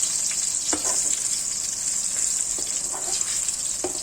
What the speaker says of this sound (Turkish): Patlıcanlarımızı ters çevireceğiz ki ön tarafları kızarmış. Arkalarının da kızarmasını istiyorum.